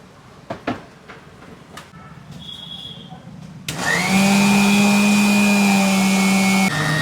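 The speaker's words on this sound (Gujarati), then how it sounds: "ચટણી બનાવતી વખતે ખાસ ધ્યાન રાખવાનું છે, મિક્સરને વારંવાર ફેરવી અને બાળી નથી દેવાની" A mixer grinder blending green coriander chutney with cold water or ice follows a few light clicks and handling knocks. It then bursts into a loud, steady motor whine for about three seconds before stopping.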